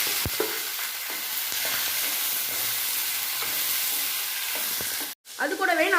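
Chopped onions fry with dal in hot oil, a loud, dense sizzle with scattered crackles and stirring knocks that cuts out briefly near the end, followed by a short burst of speech.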